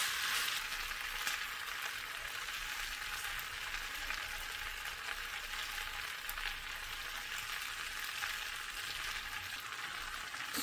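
Sausage stir-fry with ketchup, garlic, paprika and king oyster mushrooms sizzling in a frying pan, a steady close hiss of frying throughout with faint stirring, no talking.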